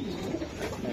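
Pigeons coo in a steady, throaty rumble at a pigeon farm, close and continuous while a bird is held, with no talking.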